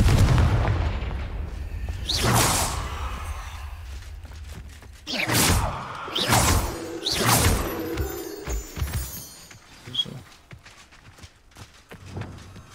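A Confringo blast spell fired in Hogwarts Legacy, heard as several loud booming explosions spaced irregularly, with crackling debris and footsteps between the blasts.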